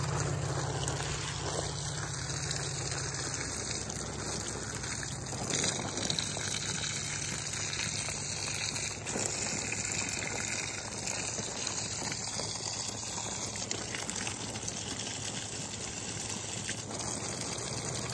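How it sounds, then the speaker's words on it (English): Water from a garden hose pouring into a bucket, a steady rushing gush that continues evenly throughout at moderate loudness with no talking. "we're basically just gonna fill up each bucket with water"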